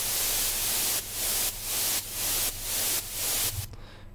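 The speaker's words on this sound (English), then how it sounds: "a bit of white noise" White noise effect in an Ableton Live deep house track: a loud, broad static hiss pulses in rhythmic half-second bursts over a steady low bass, then cuts off abruptly near the end.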